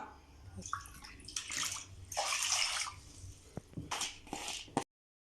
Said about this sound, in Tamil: கழுவி வச்சுருக்க தண்ணியோட தான் ஊற்றணும் ஒரு டம்ளர் அரிசிக்கு நாலு டம்ளர் தண்ணி ஊற்றணும்